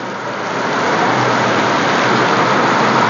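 Sudden heavy monsoon rain pours outside a roadside dhaba, a dense, steady hiss that swells slightly at the start and then holds loud and unbroken, with no voices.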